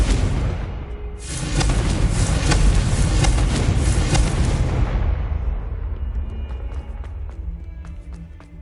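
A Confringo spell explosion in the Hogwarts Legacy game bursts loudly and close, a rumbling blast that sustains for several seconds before fading into a quieter, ringing tail.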